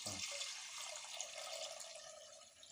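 Water pours steadily into a pot of washed raw ration rice, a faint, continuous splashing stream that runs unbroken and quiet.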